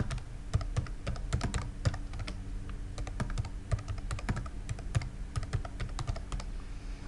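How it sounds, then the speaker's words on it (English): Rapid, uneven keystrokes on a computer keyboard as an email address is typed, close and clear over a quiet background, with no talking. "now I can type in the address"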